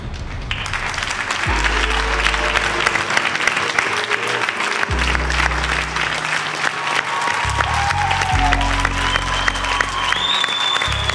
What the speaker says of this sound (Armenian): Էդուարդին բարձր ծափանում ենք, բարձր։